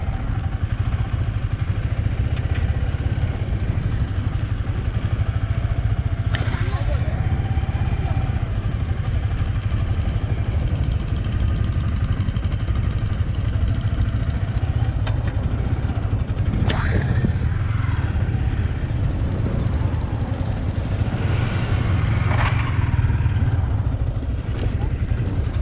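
A Yamaha R15 V3 motorcycle runs off-road with a continuous low engine drone and occasional clatter, while a rider talks throughout.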